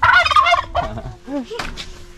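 A turkey gobbles in short, warbling bursts, loud and close at first, then a few quieter calls, with no talk over it.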